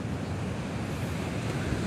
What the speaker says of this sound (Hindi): बड़ा ही ख़तरनाक समंदर इस वक्त हुआ हुआ है।